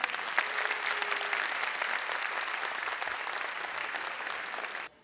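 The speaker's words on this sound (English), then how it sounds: "Parents, please clap for them." Parents in an audience at a Kidzee preschool annual day applaud steadily, a dense and fairly distant wash of clapping that holds evenly for about five seconds and then cuts off abruptly.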